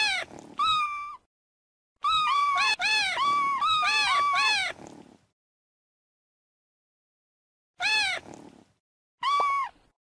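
A cartoon kitten in a children's online pet-care game meows repeatedly in clear, high, drawn-out calls, several in quick succession, then a pause and two more meows, heard alone and up close.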